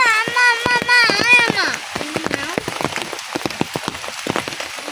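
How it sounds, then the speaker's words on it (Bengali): Heavy rain pours in a rural Bangladeshi village, heard as a dense, irregular patter of drops striking nearby surfaces, with a voice briefly sounding at the start. "কারণ বৃষ্টি থামতেছে না"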